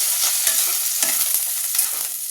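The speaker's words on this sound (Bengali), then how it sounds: "হালকা ফ্রাই করেছি, ডিপ ফ্রাই করে নিই" Bitter gourd deep frying in a pan makes a steady, close sizzle broken by the brief clatter and crackle of stirring.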